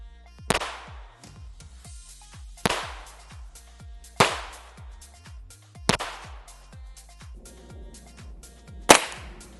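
A firearm is fired outdoors in five sharp, loud, evenly spaced shots at a shooting session comparing unsuppressed and suppressed fire, each report followed by a brief decaying echo.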